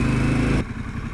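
A Harley-Davidson Pan America motorcycle engine runs steadily and loudly at close range, its pitch dropping abruptly about halfway through as the throttle eases.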